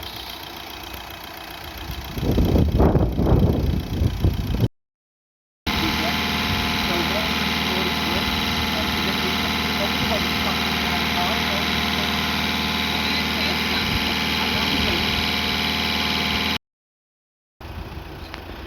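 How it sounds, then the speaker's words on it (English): A Volkswagen Golf Mk6 engine runs at a steady idle while hydrogen is pumped through the air intake during a carbon and DPF clean. A continuous mid-pitched hum persists, with a louder, rougher burst early on and two brief dropouts. "he's going to pump hydrogen now through the air intake on the engine, which will then pump out all the crap in the DPF"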